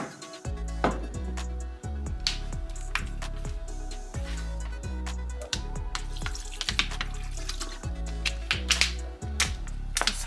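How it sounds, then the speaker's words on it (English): Water pours and splashes steadily close by while sea moss is rinsed, with sloshing and clinking in a sink-like basin. "We'll dump this water out and clean it one more time."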